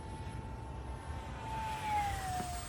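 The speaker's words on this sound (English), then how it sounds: "it doesn't make sense how good this airplane flies." 3D printed EDF jet RC airplane flying past, a faint distant whine of the ducted fan that rises and falls in pitch over steady outdoor wind noise.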